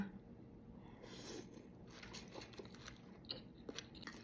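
Someone eats crispy pork with beef noodle soup and basil, giving soft, close crunches and chewing at low volume over a faint background hum.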